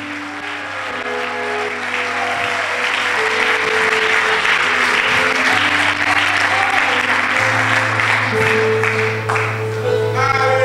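Church congregation applauding loudly and continuously, a thick wash of clapping that swells and holds for about ten seconds, with sustained organ or keyboard tones underneath and faint voices mixed in.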